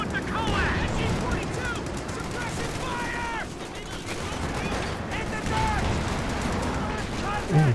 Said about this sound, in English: Ooh, big rifle nade.